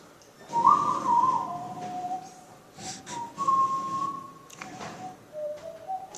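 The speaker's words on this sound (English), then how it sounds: "can you whistle?" A person whistles a steady single pitch of about 1600 hertz in a few sustained notes, with soft background noise between them.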